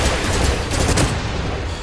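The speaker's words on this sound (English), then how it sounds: "You're getting shot from two different directions" Dense, continuous gunfire from a first-person shooter video game, Farpoint, roaring steadily and loud throughout with overlapping bursts and no pauses, like a sustained firefight coming from several directions.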